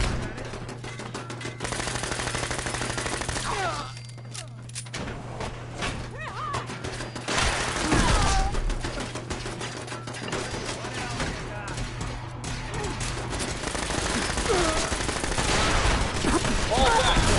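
Rapid automatic gunfire and bursts of shooting in a Fallout 4 firefight, dense and continuous throughout with shouted speech over the din.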